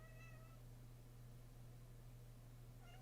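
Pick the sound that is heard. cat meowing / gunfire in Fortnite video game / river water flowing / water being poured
cat meowing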